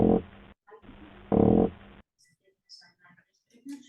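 Two loud, low, buzzy grunts of spawning meagre fish (Argyrosomus) come from an underwater tank recording, each lasting a fraction of a second over a faint hum, followed by a person talking.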